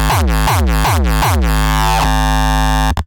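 Loud hardstyle kicks, with four distorted pitched hits in quick succession before one long, sustained, gritty tonal kick tail that rings on and cuts off abruptly, with no voices.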